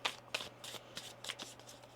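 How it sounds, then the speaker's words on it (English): Tarot deck being shuffled at close range, several crisp riffling bursts and card slaps in an uneven rhythm with short pauses between, no talking. "One more shuffle here."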